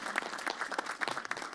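Steady crowd applause at a spring 2021 outdoor university commencement ceremony, fairly faint and distant, with scattered claps continuing throughout the short stretch.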